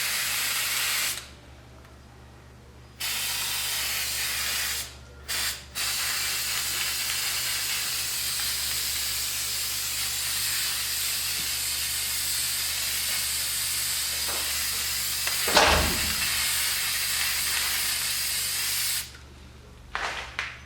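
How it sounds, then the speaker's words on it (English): An aerosol can sprays clear coat in long, close, loud hissing bursts, separated by a few brief silent pauses and ending with short sputtering sprays. "it's just like a clear coat"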